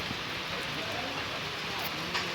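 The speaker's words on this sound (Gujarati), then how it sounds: "તો ભાઈ આવો ઝીણો મોટો વરસાદ ચાલુ થયો ભાણવરમાં" Rain falls steadily in Bhanvad, Gujarat, a soft, even wash of hiss with faint patters on surfaces, continuous and fairly quiet throughout.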